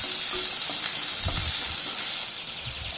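Small shallots sliced into rounds frying in hot oil with mustard seeds and urad dal, a steady close sizzling hiss with faint crackles throughout.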